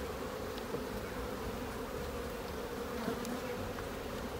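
Honeybees drone in a continuous, even buzz around an open hive during a spring inspection, close and moderately quiet with occasional louder individual buzzes passing near.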